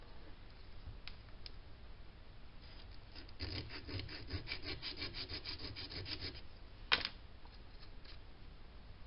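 Wood is hand-sawn or rasped from the neck heel of a Gretsch hollow-body guitar during a neck reset. The strokes are quiet and close, with a run of quick rhythmic strokes in the middle, a few isolated scrapes and one sharp tap near the end.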